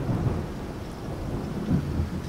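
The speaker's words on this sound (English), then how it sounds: "It's actually raining outside now." Heavy rain pours steadily in the video game Project Zomboid while deep thunder rumbles throughout, swelling louder near the end.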